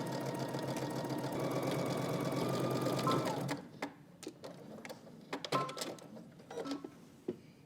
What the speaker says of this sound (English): let's head to the sewing machine. We're gonna stitch our collar down